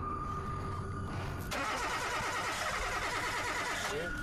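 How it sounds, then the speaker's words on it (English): A car's engine cranks and sputters but fails to catch, a faint grinding starter noise rising abruptly after a quiet moment and continuing unevenly. "each time the woman attempts to start her car, it's still having trouble"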